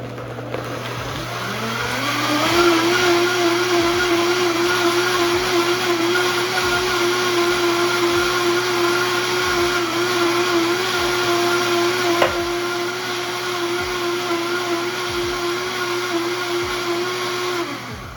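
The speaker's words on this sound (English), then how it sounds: "So get your high-speed blender situation on, turn it on" A high-speed blender pureeing lychee spins up over the first few seconds to a loud, steady whine and keeps running evenly, with faint rhythmic knocking underneath.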